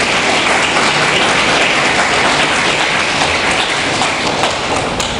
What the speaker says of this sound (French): Un applaudissement, s'il vous plaît.